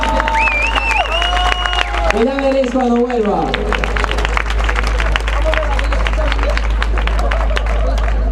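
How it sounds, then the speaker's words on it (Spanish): An audience applauds at a breakdance battle, with dense clapping and crowd noise running continuously and loudly from start to end under an announcer who speaks over a PA, plus a steady low hum and bits of music. "Quiero un fuerte aplauso para Vivo y Nico de Flavor Brothers Clan."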